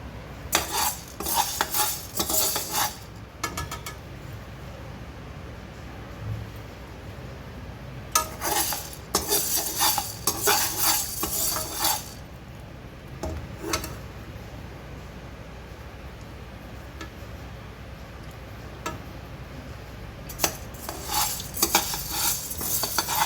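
Black peppercorns dry-roasting in a pan for a Brahmin-style saaru powder, heard as bursts of scraping and clinking from stirring, with faint crackle in between.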